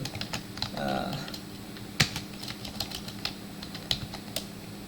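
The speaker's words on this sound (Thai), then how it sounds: "หรือเราจะเสิร์ชหาก็ได้นะครับ พิมพ์หาเป็น" Computer keyboard typing, as someone searches for a raster-to-polygon conversion tool in ArcGIS: irregular clacky keystrokes spread across a few seconds, close and moderately loud, with one sharper strike in the middle and a brief background murmur.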